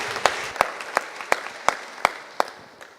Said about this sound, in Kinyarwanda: Reka twongere Imana amashyi menshi Acclamons encore Dieu.